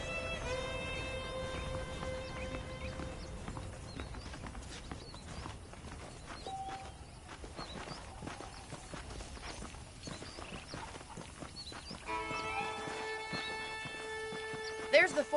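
Saddled horses' hooves clip-clop at a walking pace in Red Dead Redemption, a steady irregular patter of soft knocks running throughout, with a musical score and in-game voices playing over it.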